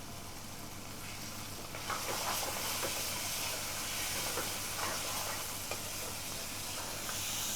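Garlic lamb curry sizzles hard in a pan over a very high flame in a takeaway kitchen, a loud steady hiss and crackle with bursts of stirring, close up with no talk.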